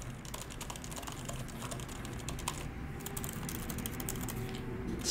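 Rapid, quiet clicking of fingers typing on the keyboard of an M1 Pro MacBook Pro 14-inch, a continuous close patter of light key presses.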